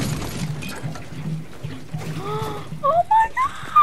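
Fuel fills a car in the Fortnite video game with a low, gurgling pour that gives way to a quick run of bright, rising electronic chirps near the end, fairly close and loud.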